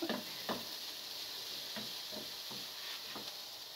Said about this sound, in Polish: tu już mi się dosmaża